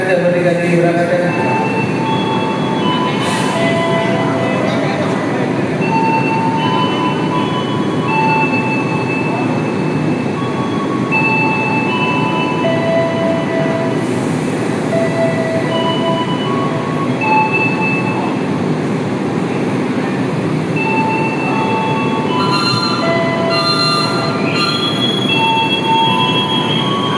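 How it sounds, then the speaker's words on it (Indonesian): A Sangkuriang passenger train pulls out of a station with a heavy, continuous rolling rumble, its wheels squealing in high thin whines that come and go, loud and close throughout. "Jalur 3 penerbangan kereta api Sangkuriang siap diberangkatkan, jalur 3 diberangkatkan."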